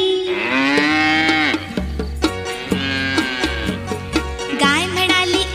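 A cow moos repeatedly over loud music, the lowing set against singing tones and bass beats during a preschool annual day stage performance.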